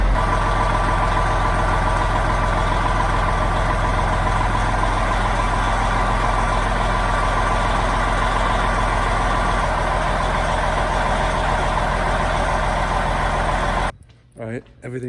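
An old International Harvester semi truck engine runs at a steady, loud idle with a deep rumble for most of the time, then cuts out abruptly near the end.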